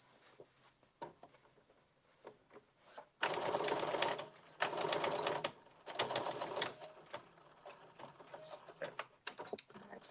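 Sewing machine stitching a seam on a blazer with a 5/8-inch seam allowance, in a few close, loud bursts of rapid whirring, with quieter handling clicks around them.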